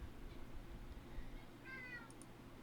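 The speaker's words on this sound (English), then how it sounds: "And I'm going to ignore the cat." A cat gives a single short meow, heard faintly and somewhat distant over a low steady background hum, followed by a couple of tiny high clicks.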